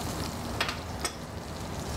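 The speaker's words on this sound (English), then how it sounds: "I'll just throw onions in." Onions dropped into hot oil give a soft, steady sizzle and crackle up close, with a couple of brief sharper spits as pieces hit the pan, no talking.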